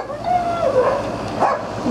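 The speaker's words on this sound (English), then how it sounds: "There's some of the big dogs." Dogs whine and yip in a continuous, rising and falling vocal stream, fairly close, with whimpering tones throughout.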